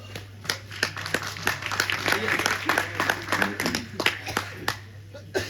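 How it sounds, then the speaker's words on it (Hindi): An audience at an all-India Hindi comic poetry gathering claps in sharp, scattered bursts that thicken into uneven applause, with a steady electrical hum and voices running underneath. "मेरे साथ तो भाई साहब एक बार जोरदार ताली वाली बजा दो"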